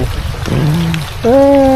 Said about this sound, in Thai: ฝนตกแล้ว ไปทุกคนกลับบ้านแล้ว